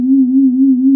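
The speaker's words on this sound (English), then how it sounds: "the moment we add some, say, LFO modulation to that sine wave" A synthesizer sine wave with slow LFO modulation, a steady pure tone that gently wobbles in level and pitch throughout, loud and alone with no other sound.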